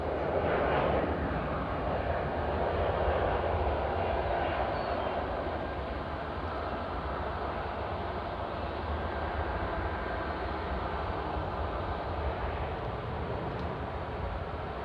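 An airplane takes off from runway 20 center at Nashville International Airport, a broad, steady engine roar heard from a distance that holds throughout and fades slightly over time.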